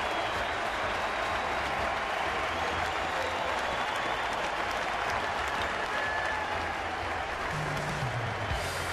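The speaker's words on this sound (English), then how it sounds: "Standing ovation for Zito." Ballpark crowd giving a standing ovation as pitcher Zito leaves the game with the Giants up 10-0, sustained loud applause and cheering from a large crowd filling the whole span without a break.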